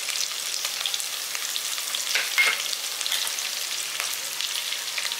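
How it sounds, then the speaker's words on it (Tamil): Onions and curry leaves sizzle steadily in oil in a pan, a continuous bright crackling hiss with a few louder pops near the middle, no voices. "வெங்காயத்தை போட்டிருக்கேன். அடுத்து வந்து கருவேப்பிலை போட்டுக்கலாம்."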